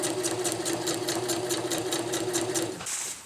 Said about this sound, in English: I am sewing slippery fabrics.